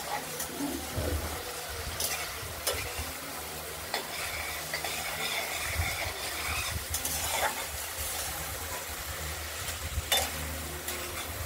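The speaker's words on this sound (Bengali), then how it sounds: "মশলাটা কষে এসেছে, তেল বেরিয়ে গেছে।" Spice paste for a rohu fish curry frying in oil in a pan, a steady close sizzle with intermittent stirring scrapes and clinks throughout, no voices.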